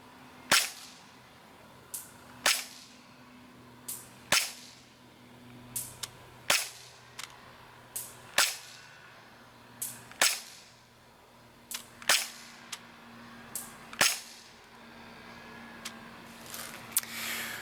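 An airsoft M93R pistol fired at a target 175 feet away, about a dozen sharp, crisp pops spaced roughly every one to two seconds, close and fairly quiet over faint background hum.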